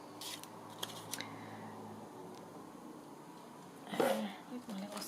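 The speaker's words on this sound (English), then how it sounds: "With my little scissors," Small scissors cutting paper, a few faint snips and a brief louder crunch near the end, close by and quiet, with a voice talking at times.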